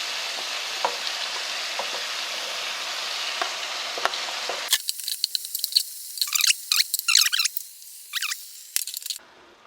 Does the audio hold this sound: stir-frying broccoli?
yes